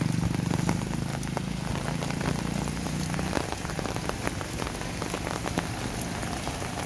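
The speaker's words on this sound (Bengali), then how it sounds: "বৃষ্টি একটুও কমেনি, মনে হচ্ছে সারা রাত বৃষ্টি হবে" Steady rain falls on a cold winter morning, drumming on surfaces in a dense, continuous patter with scattered sharper drops, alone and unbroken throughout.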